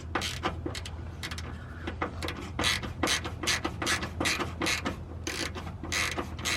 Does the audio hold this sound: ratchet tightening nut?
yes